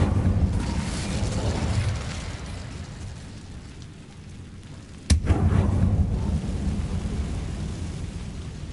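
A fire spell cast in the Hogwarts Legacy video game bursts in with a sudden loud rumbling whoosh around the midpoint, following a lower roaring blast at the start, both with sustained rumble that slowly fades.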